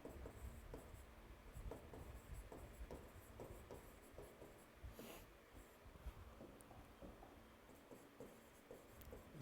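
A pen scratches out notes during a Hindi-language class 10 science lesson, a faint, close, irregular run of short writing strokes with soft breathing and no talking.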